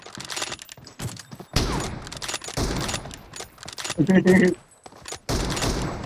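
Loud bursts of rapid automatic gunfire in the video game PUBG crackle in several volleys with short gaps between them, while a voice speaks over the shooting.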